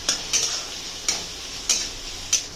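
A spoon stirs tomato, onion, coriander powder and red chili powder frying in a pan, giving a soft sizzle with a few sharp scraping clicks at irregular intervals, fairly quiet with no talking.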